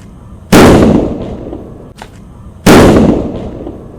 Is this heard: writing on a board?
no